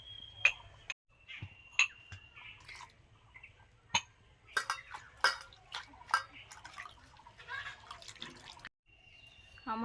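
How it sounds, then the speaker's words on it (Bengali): Fresh mint leaves rinsed in water at a kitchen sink: quiet, scattered drips, small splashes and light clinks come in irregular bursts, close by, with brief silent gaps. "বেছে একটু জল দিয়ে ধুয়ে নিচ্ছি।"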